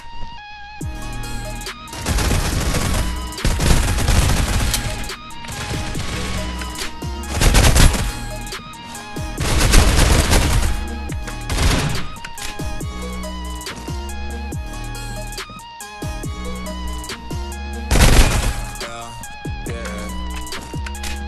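Automatic gunfire from a gun in the mobile shooter Critical Ops, loud, rapid bursts repeating every few seconds over a steady game soundtrack, with no talking.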